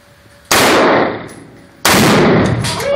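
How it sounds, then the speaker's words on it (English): Two loud, close rifle shots or blasts ring out about a second apart while shooting Tannerite explosive targets outdoors, each a sharp crack followed by a long decaying boom. "Yep, gonna shoot some Tannerite."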